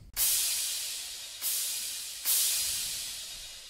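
Three long bright crash-cymbal hits, layered with a Minecraft fireworks sound effect, from an FL Studio type beat. Each hit sustains and fades before the next, with no voices.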